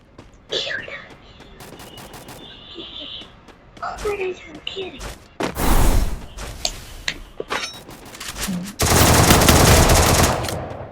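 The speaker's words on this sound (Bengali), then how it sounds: "এখানে অফিসিয়াল লেভেল হেডশট মারে কিল লুট করে নিলাম এখান থেকে" Gunfire from a video game shooter comes in short bursts and single shots, ending in a long loud volley, while a player talks quietly between the shots.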